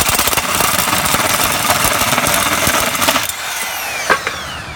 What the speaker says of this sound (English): that's how you cut a hole in your wood product without damaging it or breaking your drill